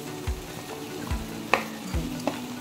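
Beans and capsicum sizzle and are stirred in a pan for a vegetable chicken biryani, giving a steady close frying hiss with several dull spatula scrapes and one sharp clink.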